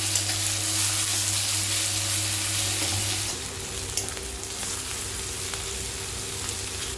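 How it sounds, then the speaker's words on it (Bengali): Chopped garlic, green chilli, ginger and onion fry lightly in refined oil, a close, continuous sizzle with some stirring, and a low hum that drops away partway through. "এটা হালকা ফ্রাই করতে হবে।"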